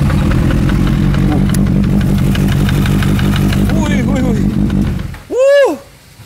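A Kawasaki Z800 motorcycle engine with an oil pressure fault idles loudly and roughly with a knocking rhythm for several seconds, then stops, and a voice speaks briefly.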